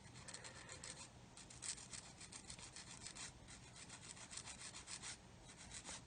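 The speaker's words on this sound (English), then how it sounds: "Hold it nice and tight, sanding stick." A sanding stick rubs rapidly back and forth across a small plastic part of a 1/32-scale Kitty Hawk OV-10 Bronco model kit, a close, steady rasping scrape in quick strokes with no voices.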